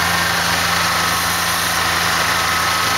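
A 1986 Ford F-250 pickup truck engine runs at an even idle, a constant low rumble with a smooth mechanical hum that doesn't change over the few seconds.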